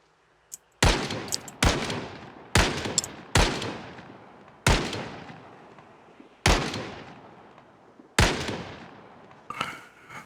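M16 rifle fire in the video game Project Zomboid: about eight loud, sharp single shots spaced roughly a second apart, each ringing out with a decaying tail, with no talking.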